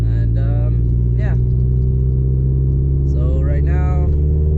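Mazdaspeed car with a top-mount intercooler driving through traffic, its engine a steady loud low rumble throughout, with brief passing tones and a voice talking over it.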